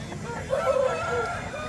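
Breed chickens at a Kundarapalli poultry market, a short crow or loud cluck bursting out midway over a continuous murmur of fowl and crowd noise.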